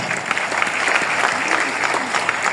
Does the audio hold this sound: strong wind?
no